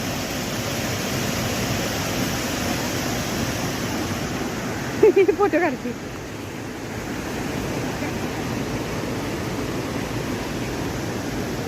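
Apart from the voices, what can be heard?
water flowing in a canal from a dam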